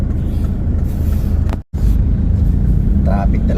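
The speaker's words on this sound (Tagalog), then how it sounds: "Traffic talaga basta palengke. Hindi maiwasan ang traffic." Steady road traffic rumbles close by on a busy street beside the public market in Bacoor, a dense low engine drone with one brief dropout midway and people talking over it.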